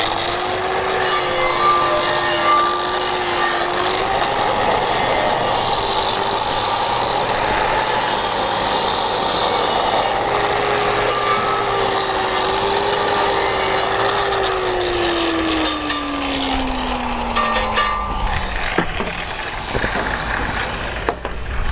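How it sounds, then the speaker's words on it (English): A flap disc grinder cleans up a cut edge on steel plate in a boat-building workshop, a loud continuous whine that holds steady, dips, then winds down near the end, with no talking. "we'll just give it a clean up with the flapper"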